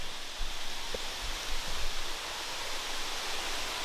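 Waterfall in a jungle near Chiang Mai, a constant broadband roar of falling water heard steadily throughout, with a few faint low thumps of footsteps or handling nearby.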